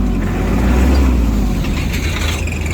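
A Kubota GL-220 Japanese mini tractor engine runs and revs up, a loud, close, low throbbing drone that climbs slightly in intensity over a few seconds.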